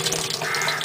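Thick, viscous seaweed extract liquid pours steadily into a container, a close, continuous splashing gurgle lasting under a second with no voices.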